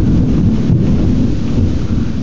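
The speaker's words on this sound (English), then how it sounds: "So we're getting a, a storm here" A summer thunderstorm heard from a porch window, with loud, continuous rumbling and heavy rain and wind noise that fill the whole moment without pause.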